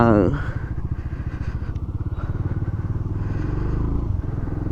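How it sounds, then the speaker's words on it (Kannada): A motorbike engine runs on an empty road at night near Hoskote, giving a loud, close, steady throbbing putter with even pulses throughout. A voice talks over it. "ನನ್ನ ಗಾಡಿ ಸೌಂಡು ಅವ್ರ ಗಾಡಿ ಸೌಂಡು"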